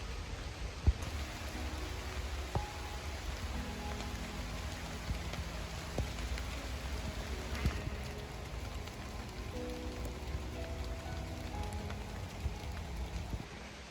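Steady rain falls throughout, a dense even patter of drops on surfaces with occasional louder drips close by, continuous and unbroken with no voices.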